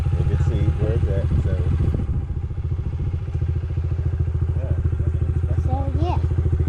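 Motorcycle engine rumbling and idling with a steady throb during circle drill practice, with clattering bits and some nearby talk over it.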